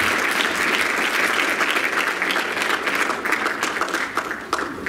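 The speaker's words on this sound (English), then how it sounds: "Why don't you clap your hands to the Lord as you're seated." Seated church congregation clapping their hands to the Lord, a dense, steady wash of applause throughout at a moderate level.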